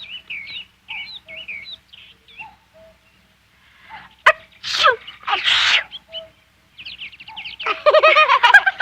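A cartoon character sneezes twice in quick succession among chirping birds in a flowery outdoor scene, the loud bursts standing out between bright tweets and calls.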